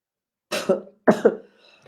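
Two harsh coughs in quick succession, each a double burst, close and loud, followed by quiet.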